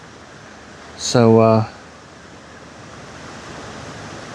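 Wind blows steadily at a Mousehole fishing lake, a soft broadband rushing that fills the clip, with a single short spoken word partway through.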